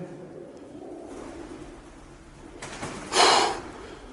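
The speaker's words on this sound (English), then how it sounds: "there's quite a lot of pigeons in here." Pigeons coo inside an abandoned building, soft low murmuring throughout, followed by a sudden louder flutter or burst near the end; no talk is heard.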